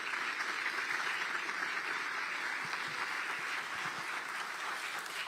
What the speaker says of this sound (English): Let's have a round of applause for our reading champions.